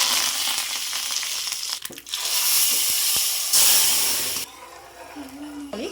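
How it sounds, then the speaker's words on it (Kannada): Mustard seeds, asafoetida and curry leaves sizzling in a spoon of hot oil in a pan, a loud close hiss and crackle that surges, then drops away to a softer sizzle near the end. "ಒಂದು ಬಾಣಲಿ ಇಟ್ಕೊಂಡು 1 ಸ್ಪೂನ್ ಎಣ್ಣೆ ಹಾಕ್ಕೊಳ್ತಾ ಇದ್ದೀನಿ. 1 ಸ್ಪೂನ್ ಸಾಸಿವೆ, ಸ್ವಲ್ಪ ಇಂಗು, ಕರ್ಬೇವು"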